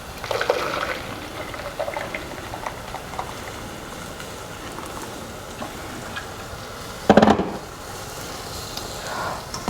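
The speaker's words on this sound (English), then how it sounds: "And then I'm going to go in with 1 liter of boiling water." One liter of boiling water is poured into a coconut mixture in a pot for cashew nut curry, a soft steady liquid rush and bubbling with a brief louder splash near the end.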